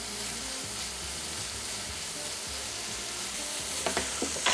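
Cumin lamb mince stir-fries in a hot wok with a dense, continuous sizzle, and a few sharp scraping clatters of the spatula come near the end.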